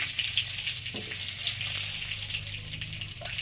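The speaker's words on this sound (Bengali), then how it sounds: "দিলাম একটু জল দিয়ে দিলাম" Water goes into a pan of fried spice paste with a bay leaf and black cumin while veg paneer is being cooked. It gives a steady, close sizzling hiss that lasts the whole time.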